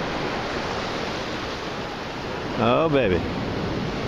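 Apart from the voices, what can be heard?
ocean waves breaking on the beach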